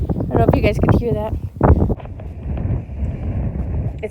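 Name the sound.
strong wind outdoors at a stable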